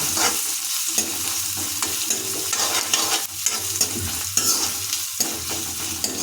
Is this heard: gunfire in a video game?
no